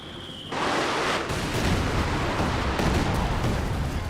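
A captured MG42 machine gun fires in the video game Company of Heroes 2, a dense, continuous roar of rapid fire that kicks in abruptly and holds loud amid the clamour of battle.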